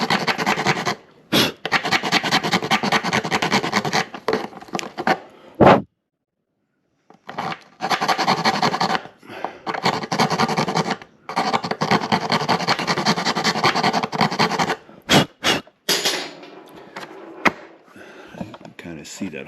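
A rat tail file rasps back and forth in a hole in a cracked fiberglass tank, loud close scratching strokes in bursts with short pauses between them.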